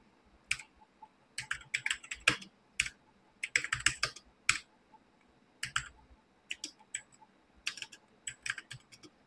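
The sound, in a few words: typing names on computer keyboard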